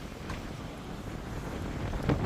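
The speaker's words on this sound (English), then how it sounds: "Windy tonight, but it's a nice wind." Steady wind gusts across the open deck of the Island Princess cruise ship at night during a Panama Canal transit, a soft continuous rushing buffet with no voices.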